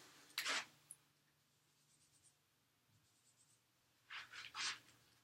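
A marker draws a line on a lecture board, two short squeaky scratching strokes about four seconds apart, faint against a quiet room.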